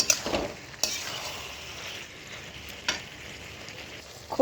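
Pointed gourd and prawns sizzle in a hot pan as a spatula stirs them, giving a close, steady fry with a few sharp scraping clacks of the utensil against the pan.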